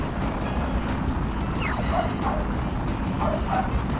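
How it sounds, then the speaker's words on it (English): A dog barks late at night, a few short yips and barks in two pairs, somewhat distant, over a steady broadband rumble. "Oh, my dog's barking."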